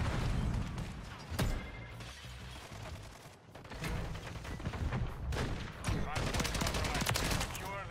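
Hip-fire bursts from a carbonized Blackcell blueprint weapon in Modern Warfare 3 crackle through a battle, with sharp repeated shots and automatic fire layered over background combat noise and faint voices.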